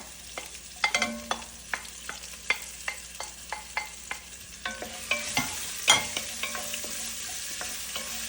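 Garlic and ginger sauté in a pan with roasted coconut for a Kerala-style duck roast, a continuous sizzle broken by a rhythmic series of sharp spatula scrapes and knocks, close and clear.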